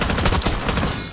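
Rapid gunfire in the video game Black Ops 6, a loud close burst of automatic shots in quick succession lasting about a second.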